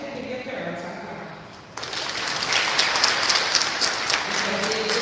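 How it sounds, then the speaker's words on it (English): At a girls' school graduation ceremony, a quieter opening with a voice gives way to a sudden burst of audience clapping that swells and continues steadily to the end. "So I'm going to give your parents a clap."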